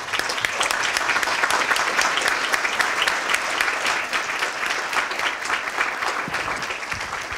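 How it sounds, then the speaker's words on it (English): A room full of people claps for the mentors at a startup pitch night, steady and sustained applause with no voices over it, keeping an even level for the whole stretch. "We'd love to give you a round of applause."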